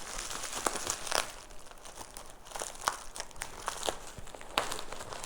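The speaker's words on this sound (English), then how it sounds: "We got some nice bubble wrap to protect the bags and the paint." Bubble wrap packing around new bags and paint is handled and unwrapped, giving close crinkling and crackling with sharp irregular pops and rustles spread through the clip. No one speaks.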